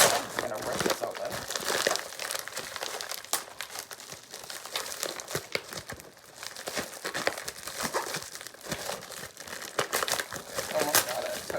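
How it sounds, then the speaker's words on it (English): A U.S. Postal Service package is ripped open, producing continuous close crinkling and crumpling of plastic or paper with sharp tearing bursts, and a voice speaks faintly at times. "I'm just gonna rip this open."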